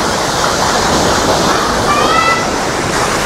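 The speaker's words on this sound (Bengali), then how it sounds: "সেই ওয়াটারফলের জলটা এখান দিয়ে আসছে" Overflow water from the Khecheopalri Lake waterfall stream in Pelling, Sikkim, rushes as a steady, loud broadband roar throughout, close by, with a few faint high chirps near the end.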